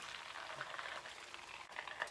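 Butter bubbling and browning in a pan, a soft, continuous crackling fizz of small popping bubbles, close and quiet with no talk.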